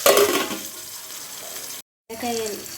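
Okra pieces fry in hot oil with a soft, steady sizzle and light stirring, close by, briefly cut off by a gap before a voice speaks over the frying.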